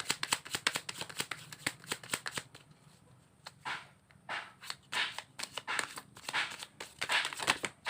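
A deck of cards is shuffled up close in rapid riffling bursts, sharp flurries of snapping card edges separated by a brief pause, with no voices.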